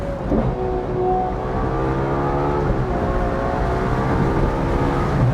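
A Ferrari 812 GTS V12 engine hums steadily up close, its pitch gliding and shifting as it revs, with a smooth continuous drone throughout.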